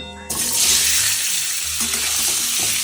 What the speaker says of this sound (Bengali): এই সেদ্ধ আলুগুলো এবারে ভাজবো তেলের মধ্যে দিয়ে।